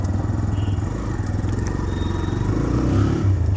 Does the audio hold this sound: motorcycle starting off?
yes